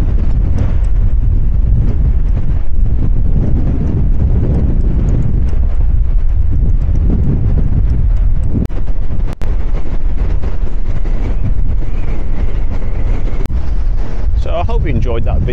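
Strong stormy wind on the Blackpool seafront beside rough seas, a loud constant roar buffeting the microphone for the whole stretch with rumbling gusts, and a voice briefly audible toward the end.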